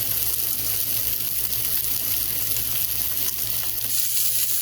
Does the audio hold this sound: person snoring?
no